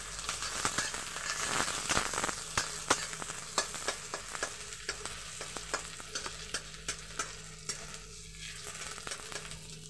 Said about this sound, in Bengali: কাঁচা লঙ্কা দিয়ে দিলাম এবং দিয়ে দিলাম একটা পেঁয়াজ। এটাকে খুব ভাজবো না